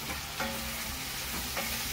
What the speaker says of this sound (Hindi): अब डाल देंगे हम इसमें अपनी बॉईल की हुई सब्जियां